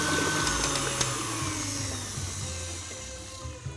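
A stand mixer fitted with a dough hook churns softened butter, giving a steady, loud motor whir with a slight rhythmic labouring that eases toward the end, heard alone without voices.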